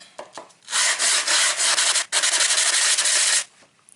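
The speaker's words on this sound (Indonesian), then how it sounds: "Kita akan gunakan amplas grit 400 untuk menggosoknya." A Tactix block plane is rubbed on 400 grit sandpaper in steady back-and-forth strokes, a loud, close scratchy rasping that runs for about three seconds with a brief pause midway.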